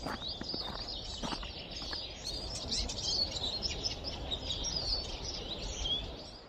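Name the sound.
birds singing in early spring forest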